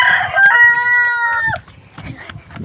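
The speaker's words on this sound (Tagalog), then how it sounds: "ayun manok namin" A rooster lets out a single loud, close cock-a-doodle-doo, its drawn-out final note trailing off, followed by softer clucking and scuffling.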